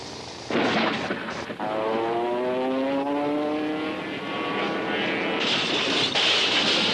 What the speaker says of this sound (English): The violent winds had blown an aeroplane far from its normal course.